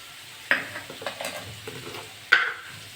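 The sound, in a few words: bitter gourd and potato frying and being stirred in pan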